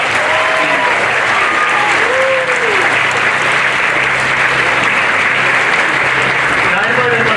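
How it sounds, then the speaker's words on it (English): A stage show audience breaks into a big, dense round of applause that stays loud and steady throughout, with faint voices and whoops rising over it. "So, ladies and gentlemen, give a big round of applause."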